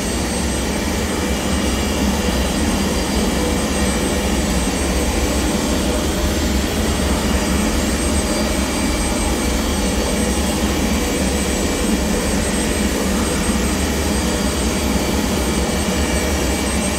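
Embraer Phenom 100 jet engines in a flight simulator game roar steadily, a loud, unbroken broadband whine and rush lasting throughout with no talk.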